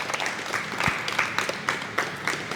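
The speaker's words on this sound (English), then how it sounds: "Round of applause for Jack," An audience claps steadily after a sports psychology mindfulness talk, a dense, even patter of many hands that carries on alone without any voices.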